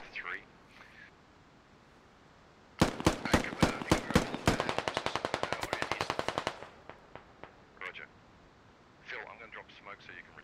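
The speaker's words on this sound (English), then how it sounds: "The Russians have stalled out on the west side, but they're taking pot shots at this defensive line here." Video game gunfire as Russian troops take pot shots at a defensive line: a loud, rapid burst of automatic fire, dozens of sharp shots over several seconds, with voices talking before and after.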